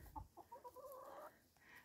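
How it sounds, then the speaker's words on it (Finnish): A rooster from a small summer farm flock of several cockerels gives a few short clucking calls, close and moderately loud, with faint farmyard background and no talk. "Kolme kukkoa on siellä."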